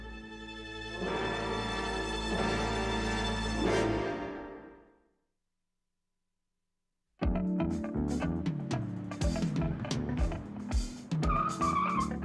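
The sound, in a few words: car driving fast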